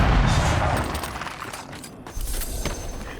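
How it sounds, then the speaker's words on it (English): A loud explosion bursts in the Avowed video game, a dense blast of crackling rumble that fades and then flares again briefly near the end. "I tried to sidestep out of the explosion."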